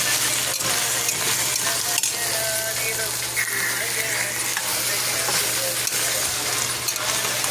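Vegetable biryani mixture being stirred in a frying pan, a steady close sizzle with scraping stirs throughout, over a low hum.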